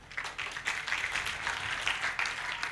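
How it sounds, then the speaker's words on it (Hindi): Sparse clapping from a small audience at a Hindi poetry recital, light and patchy, a handful of people applauding at moderate distance for a few seconds. "7-8 लोगों ने ताली बजाई है"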